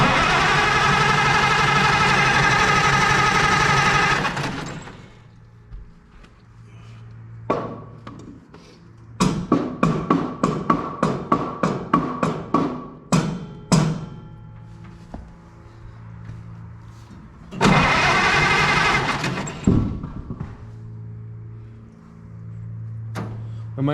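An old tractor engine cranks over and over without catching, a long grinding starter run, then a burst of rhythmic sharp cranking beats, then another grinding run.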